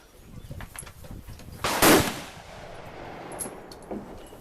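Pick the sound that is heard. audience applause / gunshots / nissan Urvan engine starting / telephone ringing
gunshots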